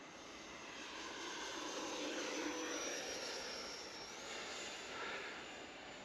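An FMS Futura 64mm electric ducted fan model jet flies overhead, a faint, continuous whooshing whine with a slight pitch shift as it passes at a distance, with no talking.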